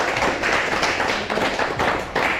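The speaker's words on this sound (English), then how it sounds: "We'll give you a round of applause now" A small group claps in a brisk, dense round of applause at the close of a seminar on 50/50 grappling technique, loud and close throughout.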